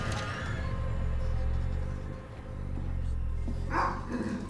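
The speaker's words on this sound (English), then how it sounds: "the dog is a cheap jump scare" A dog barks as a sudden jump scare in the Transference VR video game. One short, sharp bark bursts out near the end over a low, murky ambient drone.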